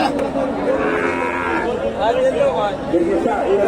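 At a busy cattle market, a cow gives a long, loud, close moo, followed by another lowing call, while people chatter and talk around it.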